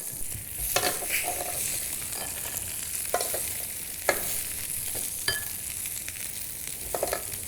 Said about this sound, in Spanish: Mientras que las piernas se van marcando por una parte, añadimos ya la grasa de conejo.